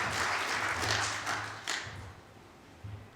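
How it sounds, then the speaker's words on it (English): A conference audience claps for a speaker before a talk on operational technology incident response. The burst is brief and broad, thinning quickly within a few seconds, with a couple of stray thumps near the end. "Could I please get a big, massive round of applause for Lesley?"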